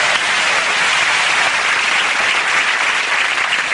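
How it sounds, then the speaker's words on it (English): Loud, dense studio audience applause fills the whole stretch evenly, a roaring wash of many hands clapping at once with no pauses and no voices. "very rarely would a clip deserve a round of applause"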